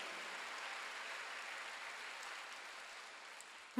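A church congregation applauds during a Sunday worship service, a steady, even wash of clapping held at moderate distance from start to finish, with a brief knock right at the end.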